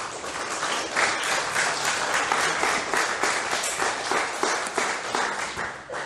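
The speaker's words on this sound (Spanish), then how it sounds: "denle un aplauso al Rey" Church audience applauding, a continuous wash of many hands clapping at moderate level with a few louder individual claps standing out throughout.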